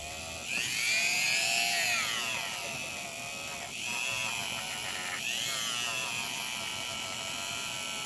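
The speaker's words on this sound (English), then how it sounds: "I'm going to be smart about it, and I'm going to use my rotary tool." A rotary tool polishing the movement plate of a 1928 Gilbert wall clock gives a high, steady whine that dips and rises in pitch over three passes as the tool presses against the metal, heard up close.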